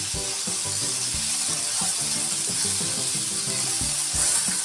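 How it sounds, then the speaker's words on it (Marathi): Chopped tomatoes roasting in a pan for chutney give a loud, steady sizzle and hiss that runs unbroken throughout, with low, uneven bubbling beneath. "टोमॅटो छान भाजायचं म्हणजे चटणीमध्ये कच्चेपणा राहत नाही"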